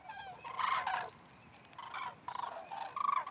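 Common cranes wintering in the Camargue give loud trumpeting calls in several separate bursts, some overlapping, heard at moderate distance over quiet open marsh.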